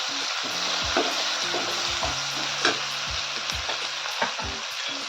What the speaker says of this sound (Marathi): टाकून घ्यायचे आपल्याला टोमॅटो आणि परतून घ्यायचं